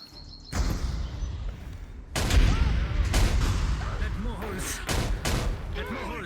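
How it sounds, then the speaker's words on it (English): Ship cannons booming in a VRChat pirate roleplay naval battle, chain shot fired through the rigging, several heavy blasts over a constant roar of battle, with shouting voices mixed in. "a chain shot just misses and wipes out the rigging"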